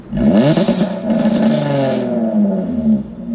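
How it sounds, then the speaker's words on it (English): With exhaust valves open, a Jaguar F-Type V6 convertible (X152) gives one sharp loud rev right up close, then drops into a deep, rumbling idle. "And that's with the exhaust on."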